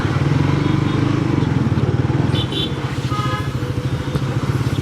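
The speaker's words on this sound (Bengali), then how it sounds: "তো দীর্ঘ 12 দিন পরে বাইকটা গ্যারেজ থেকে বের করলাম।" A motorcycle, just taken out of the garage after twelve days unused and low on fuel, idles close by with a steady, loud thumping engine pulse.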